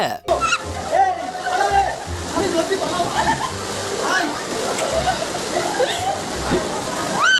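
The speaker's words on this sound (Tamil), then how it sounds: "இம்புட்டு தண்ணி ஆர்ப்பரிச்சிட்டு வருது" Floodwater surges through a half-submerged town in a broad, continuous roar, loud and near, while people talk over the rushing water.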